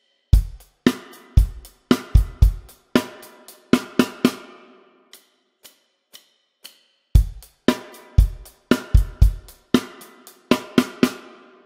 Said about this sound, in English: but you've also got this weird snare drum part